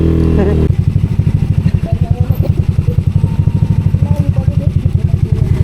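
Engines of a night-ride group of motorcycles idle and rev close by on Little Palawan, giving a loud, steady, rapid pulsing throb with clatter throughout, after a brief moment of voices at the start.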